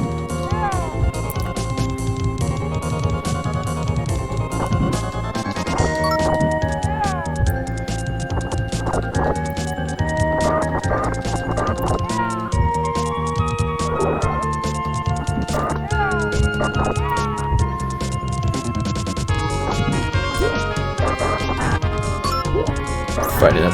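A horse gallops in a retro Nintendo video game, its steady clip-clop hoofbeats running throughout under loud, busy game music.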